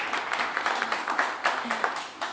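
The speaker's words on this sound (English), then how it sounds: "how about we get one more round of applause for Cullen Wade" Audience applause for performer Cullen Wade at a live Blue Plate Special radio show, a steady round of clapping from a modest crowd with individual hand claps standing out, faint voices mixed in.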